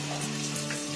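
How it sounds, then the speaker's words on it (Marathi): Halwa fish coated in masala gravy frying dhaba style, a dense, steady sizzle with constant crackling spatter throughout, close and fairly loud with no talk. "आता ती आपल्याला फ्राय करायची आहे"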